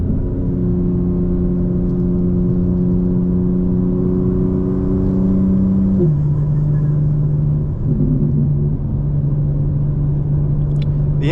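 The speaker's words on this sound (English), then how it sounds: "The intakes almost sound like a blow-off valve. It's crazy. You can hear the boost, you know, basically let off." Engine of a 2024 BMW M4 Competition xDRIVE (G82) droning steadily under load, with a shift in pitch partway through as boost lets off through the intakes; continuous close in-cabin rumble, no talk.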